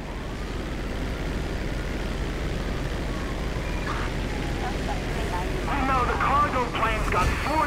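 A crop duster plane in flight in the video game GTA 5 gives a steady engine drone over rushing wind. A voice talks over it, and the engine note grows a little louder toward the end.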